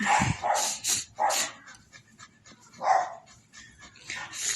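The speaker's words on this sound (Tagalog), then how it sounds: "Ngayon, ganito na po yung alagang aso namin." A dog whimpers nearby in short, high whines, several separate cries with quiet gaps between them.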